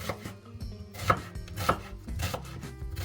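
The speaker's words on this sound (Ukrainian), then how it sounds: "Цибульку теж нарізаємо, як нам зручно. Я сьогодні нарізаю кубиком." Several knife strikes dicing onion on a cutting board, close and fairly soft, with an uneven rhythm of sharp taps and no talking.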